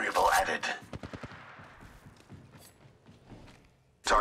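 Gunfire in Apex Legends Mobile: a quick burst of shots followed by fading reverberating echoes and scattered clicks, with game voice chatter at the start and end.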